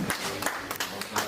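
Applause at a retirement farewell ceremony at J.J. College, Gaya: a short burst of scattered, uneven clapping from a modest crowd, moderately faint, with irregular hand claps rather than a dense roar.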